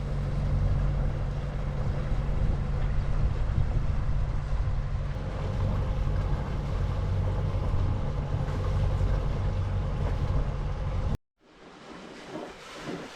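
A sailing boat heading out of Bergen up a Norwegian fjord gives a loud, steady rumble of wind and rushing water, then a sudden cut to a quieter, calmer wash at the end.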